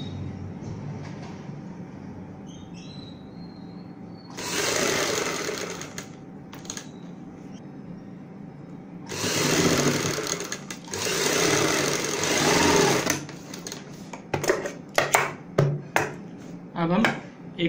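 Sewing machine stitches a boat neck on a garment, with several close, rapid whirring bursts of a few seconds each, separated by quieter pauses and ending in short stop-start runs.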